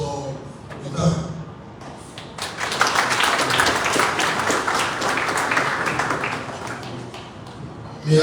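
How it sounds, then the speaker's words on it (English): An audience at a Ministry of Finance steering committee meeting breaks into applause that swells after a short spoken lead-in, holds as steady clapping for several seconds, then fades. "give the team another round of applause?"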